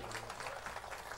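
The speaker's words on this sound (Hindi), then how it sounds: "मैं चाहूंगी आप एक जोरदार तालियों से उनका स्वागत करें।" A crowd at a political rally claps dense and steady in welcome of Sanjay Singh, a continuous wash of applause with no pauses.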